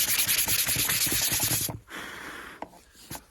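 Sanding paint off a motorcycle front rack with 800 grit sandpaper, a loud, close, rhythmic scrubbing that runs for under two seconds, then stops and leaves a few faint scrapes.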